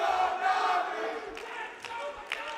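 An esports arena crowd at the BLAST Premier World Final 2023 in Counter-Strike chants and cheers in a loud roar that eases off, with scattered claps and thumps near the end.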